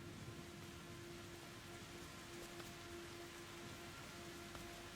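Rain falls outside as a steady, faint hiss of drops on surfaces, unbroken and even, with a thin constant tone underneath and no voices.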